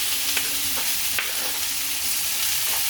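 Meat sautéing in oil in a preheated cast iron pan for street tacos, a steady close sizzle with a few scrapes and stirring clicks, no talk.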